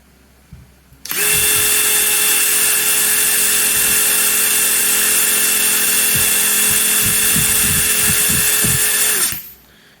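A DeWalt DCF922 atomic impact wrench fitted with a socket runs continuously at speed setting 2 for about eight seconds, a loud steady high-pitched whine with sharp start and stop.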